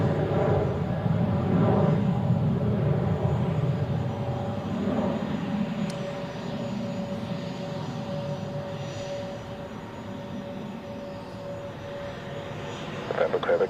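A Citation business jet takes off at Zurich Airport, its engine roar heavy and broad at first, then easing into a steadier, thinner drone as it pulls away.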